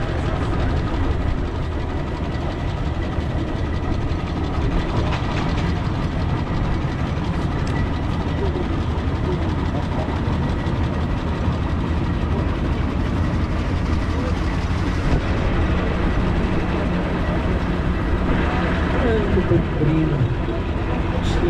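A restored steam traction engine works around a show ring at a rally, its engine chuffing and rumbling continuously at close range while an announcer talks over a loudspeaker throughout.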